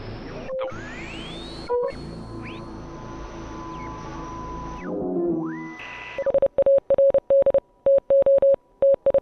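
Morse code from the video game Oxenfree rings out as a steady mid-pitched electronic tone, keyed into short and long beeps with irregular gaps, after a stretch of eerie radio static and warbling tones.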